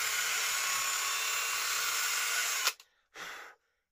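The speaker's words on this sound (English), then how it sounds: "Now what I might have to do is elongate this hole slightly," Drilling to enlarge a hole in the enclosure of a homemade 4-way mains filter hub: a steady, loud high-pitched whine holds for over two seconds, cuts off abruptly, then returns in one brief burst.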